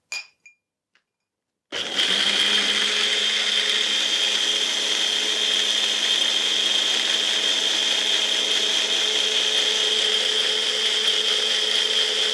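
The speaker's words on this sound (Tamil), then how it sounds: "ஆட் பண்ணிவிட்டு திருப்பி நம்ம கிரைண்ட் பண்ணலாம்" A mixer grinder whirs steadily after a brief pause with a few small clicks, grinding a beauty paste with added water; the motor runs loud and continuous with a strong high whine until the end.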